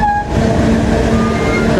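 A Kamandaka train from Cilacap runs after departing Gumilir station, heard from inside an executive-class carriage as a loud, steady rumble with a droning hum and faint higher tones.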